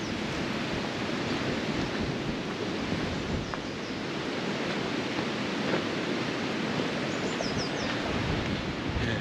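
Steady, heavy wind buffeting the microphone on a hike in the Simonside Hills, Northumberland, a dense rumbling roar that never lets up, with no talking.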